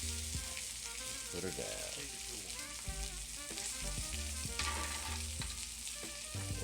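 A rack of lamb sizzles steadily in a hot pan as butter with rosemary is spooned over it, with a continuous crackling fry, clinks of the spoon and a brief spoken phrase.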